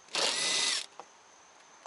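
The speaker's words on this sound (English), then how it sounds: "It's just sitting there getting all of these bolts out." A power tool backs out an underbody bolt on an Alfa Romeo Stelvio Ti Sport during its first oil change: one loud, close whirring burst lasting under a second, followed by a soft clunk and near quiet.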